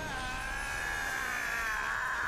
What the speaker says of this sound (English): Why do you sound like a fly?